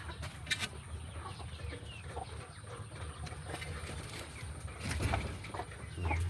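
Hens cluck and murmur in a steady farmyard bustle, with scattered sharper calls and a low background rumble.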